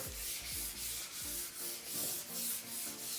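A car front bumper is lightly sanded by hand, producing soft, steady rhythmic rubbing strokes roughly twice a second, close and fairly quiet, with no voices.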